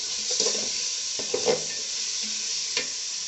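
Small pieces of rohu fish head sizzle in a spiced masala in a pan, a close, steady hiss broken by a few stirring scrapes.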